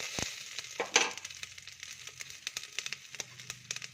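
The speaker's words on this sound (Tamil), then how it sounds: "பட்டை மிளகா போட்டுட்டு அது நல்லா இதாகட்டும்." Cinnamon and chilli frying in a pan for a Tamil manathakkali keerai soup, a close, light crackling sizzle with sharp pops and scraping stirs scattered irregularly throughout.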